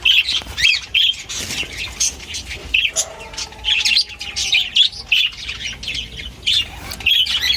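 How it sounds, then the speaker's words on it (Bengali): Birds perched in pairs call continuously, with bright repeated chirps and a few harsher squawks in a busy, overlapping pattern; no one speaks. "খুব সুন্দর সুন্দর ডাকছে ওরা আওয়াজ নিশ্চয়ই পাবে তোমরা"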